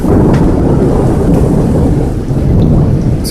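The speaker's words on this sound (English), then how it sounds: "So the sky just opened up and it started pouring." Heavy rain pours during a sudden Tampa thunderstorm, a loud, steady, close roar of downpour with thunder rumbling underneath and no talking.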